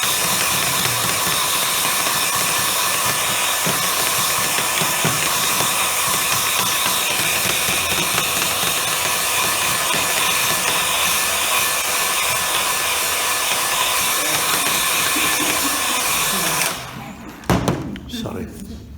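A handheld hair dryer blows hot air loudly and steadily up close, drying thatch inside a thatched cottage in Antrim, a continuous roar that cuts off near the end, followed by a few clunks and handling noises.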